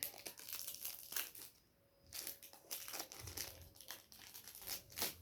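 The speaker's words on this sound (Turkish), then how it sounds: "Şimdi hemen bir kartımızı daha açalım." Plastic wrapper of a football card pack being torn and crinkled open up close, with a series of sharp crackling rustles and a short quiet pause in the middle.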